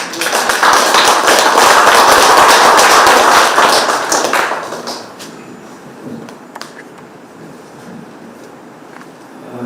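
An audience at a literary awards ceremony in Yeongju, Korea, applauds loudly and densely for about four seconds, then the clapping thins out and fades to scattered faint claps and room noise.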